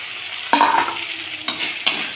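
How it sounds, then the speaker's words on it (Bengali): Pointed gourd is dropped into a pan of frying spice paste, setting off a loud close sizzle, then stirring gives two more bursts of crackling hiss. "এবার আমি পটলগুলো দিয়ে দিচ্ছি।"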